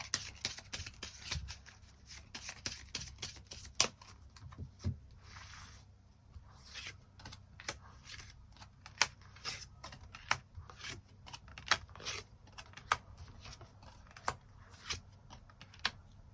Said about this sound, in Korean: 1번 분들 추가 카드로 일별로 월요일부터 일요일까지 어떤 하루를 보내게 될지 추가 카드 뽑아보도록 하겠습니다